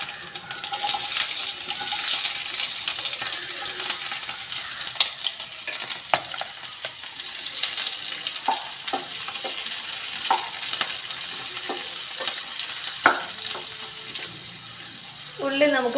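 Onions frying and being stirred in a pan for a Kerala toddy-shop-style beef fry, a steady bright sizzle with scattered scraping stirs throughout and a brief watery splash near the end.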